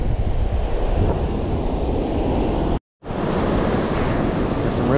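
Waves roll in on a North Carolina beach with the incoming tide, a continuous loud wash of surf mixed with wind buffeting the microphone, broken by a brief drop-out partway through.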